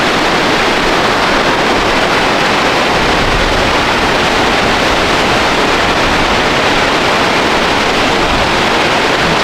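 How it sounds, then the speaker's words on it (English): A waterfall near Yellowstone rushes in a loud, unbroken roar of white water, constant and close throughout, with no voices or other sounds breaking through. "we saw this waterfall down here"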